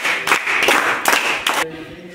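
Children in a classroom clap together in four quick rhythmic bursts of applause, close and loud, ending with a short quiet tail.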